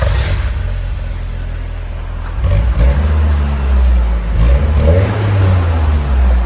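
A 1985 Toyota Corolla AE86 twin-cam 16-valve engine idles, then revs up repeatedly through an HKS cat-back exhaust, rising and falling in pitch, loud and close.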